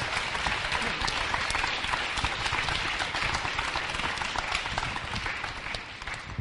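A seated audience gives a sustained round of applause at a Q&A talk with three Marathon des Sables runners, dense even clapping close up that carries on steadily and fades slightly near the end.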